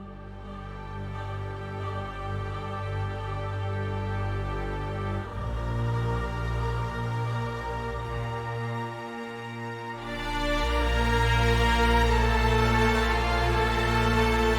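An orchestral build-up with sopranos and string chords is joined partway through by the basses of the choir. It swells in sustained, dense layers that grow louder and fuller toward the end.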